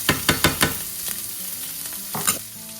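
Half-ground coriander frying in a pan of hot oil, a continuous sizzle broken by a quick run of sharp scraping stirs at the start and a couple more near the end.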